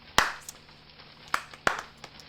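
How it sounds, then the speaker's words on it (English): Sparse hand claps, three or four sharp isolated slaps spread unevenly across a couple of seconds, fairly faint with a quiet background. "Stop clapping!"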